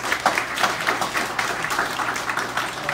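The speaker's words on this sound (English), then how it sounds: "This guy deserves a round of applause." Audience at a book talk on a Bronx neighbourhood applauding, a moderately distant, steady round of clapping heard alone.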